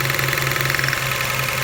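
A 1999 Toyota Camry Solara 3.0L V6 idles with a misfire, giving a steady low engine hum with a slightly uneven, pulsing rhythm heard up close and without talk.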